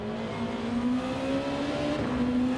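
A race car accelerating in Gran Turismo 7, its engine a steady, loud droning whine that holds close and continuous with a slight pitch rise and no talking.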